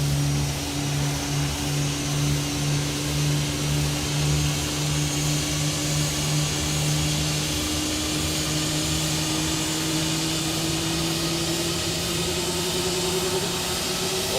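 An A320neo jet engine spools up during start in the X-Plane 12 flight simulator, a steady whining drone with rising tonal hums that climb slowly in pitch over a continuous broadband rush, no voices.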